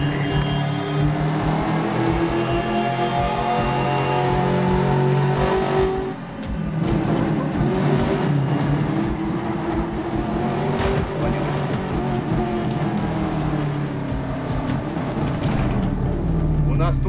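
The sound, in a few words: car driving in the video game Medal of Honor Warfighter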